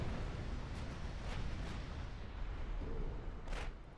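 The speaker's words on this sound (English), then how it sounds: "That was a torpedo impact." A torpedo strikes a warship in Ultimate Admiral Dreadnoughts amid naval battle, heard as a continuous deep rumbling roar of distant explosions and gunfire with a few brief sharper cracks.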